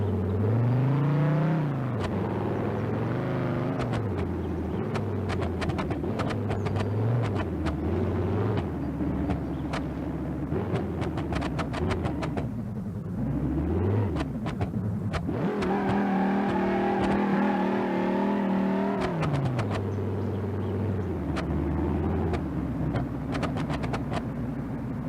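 A loud car engine in the BeamNG.drive driving game revs and winds up repeatedly, rising and falling in pitch with a steady rumbling drone underneath, no talking.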